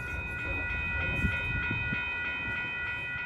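Locomotive horn blaring at a railroad crossing, a sustained multi-tone chord held steadily over the rumble of the passing train.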